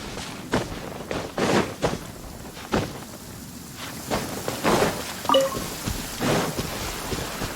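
Rain and thunder in the video game Genshin Impact: steady rainfall under repeated sharp thunder cracks and rumbles at irregular intervals, with a few footstep-like taps and no talking.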